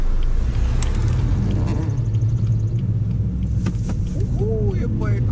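A 2018 BMW 430i convertible cruising with the top down, steady low engine and road rumble close by throughout, with faint wind and a brief chirping sound near the end.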